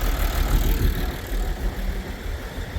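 A farm tractor engine idles nearby, a steady low rumble with a slight uneven throb, loud and continuous with no voices.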